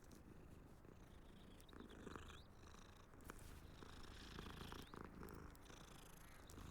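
Steady, soft purring from a cat being petted in the video game Hogwarts Legacy, a continuous low rumble that runs throughout with faint game ambience behind it and no talking.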